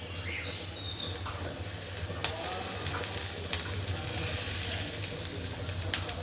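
Raw onions frying in a generous amount of mustard oil, a continuous dense sizzle with light scraping and stirring clicks throughout, close and fairly loud, with no one speaking.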